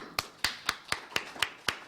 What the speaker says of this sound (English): Please give a big round of applause to our next speaker, Evander Smart.